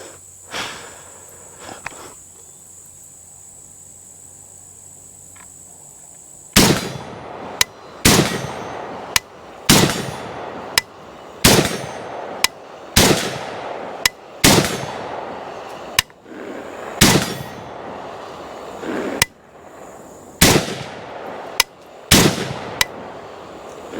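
A Zastava ZPAP85 rifle fires about a dozen shots at steel targets, each sharp blast followed by a ringing clang, spaced at an unhurried rhythm after a quiet opening stretch.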